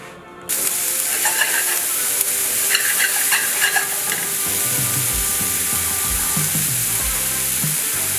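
Green onions dropped into hot olive oil for migas burst into a loud, steady hiss that starts suddenly and keeps going close up, with light scraping and clatter of stirring underneath and no talking.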